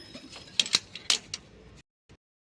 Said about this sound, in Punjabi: ਜੰਦਾ ਖੋਲ ਲਿਆ ਏ